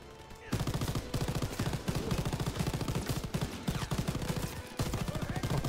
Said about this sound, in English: Jesus, we're getting shot up here